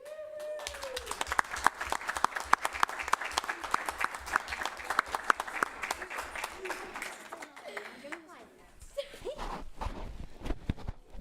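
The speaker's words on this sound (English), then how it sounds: "we should actually offer another great thank you and a round of applause" An audience at a board meeting claps in a sustained, dense round of applause that holds steady for several seconds, then thins briefly before picking up again, with a voice surfacing faintly near the end.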